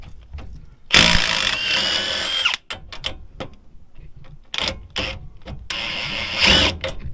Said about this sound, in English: But I'm gonna hit it with the impact.